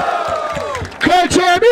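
Rap battle crowd at Batalha da Aldeia in Barueri, São Paulo, erupting into loud whoops and cheers that swell in bursts near the end, following an MC's fading voice.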